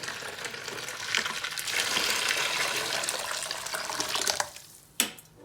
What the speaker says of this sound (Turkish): Şimdi şöyle suyumuzu döküyoruz.